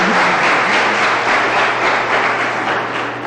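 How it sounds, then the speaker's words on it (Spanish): Applause from a church congregation after a preacher sings, a steady loud wash of clapping from a crowd that fades slightly at the end. "Y eso merece un buen aplauso"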